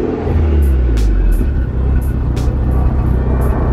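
A Mitsubishi Lancer Evolution X engine idles steadily and loudly up close, a low continuous rumble with faint high ticks above it; no one speaks.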